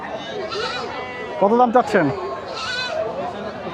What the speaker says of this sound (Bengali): এই যে এটা হচ্ছে ছাগল